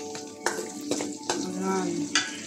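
Onion and garlic sizzle in a hot pan while cooking spaghetti sauce, a steady frying hiss punctuated by several sharp crackling bursts as the pieces are stirred.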